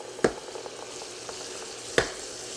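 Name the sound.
French toast frying in butter in a pan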